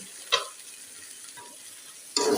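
Vegetable bhaji frying in oil on a home stove, a soft continuous sizzle broken by a couple of brief stirring clatters, the louder one at the close.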